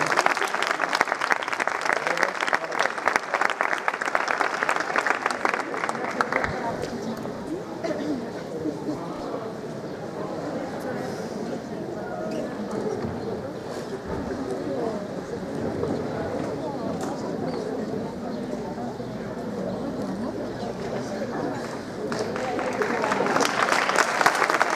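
Applause from the audience at a 2018 graduation ceremony, sustained clapping that swells loudly at the start, settles into a steady wash under a speaker's voice, then rises again near the end.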